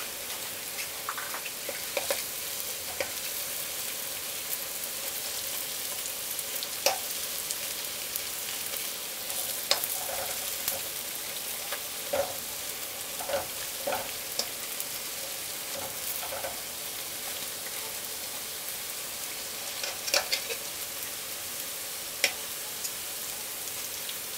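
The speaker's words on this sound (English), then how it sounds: "Keep the flame on high because that way it will fry instead of sucking up the oil" Banana fritters sizzle steadily in hot oil over a high flame, a continuous crackling fry with scattered pops, close and fairly quiet.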